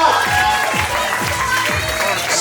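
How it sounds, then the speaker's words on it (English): An audience at a magic show applauds a volunteer named Scott. The clapping is steady and dense, with rhythmic thumps running through it and a voice talking over it. "Give Scott a nice round of applause for coming on up."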